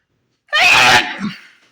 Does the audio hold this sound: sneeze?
yes